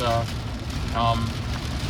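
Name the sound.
rain on Tesla Cybertruck while driving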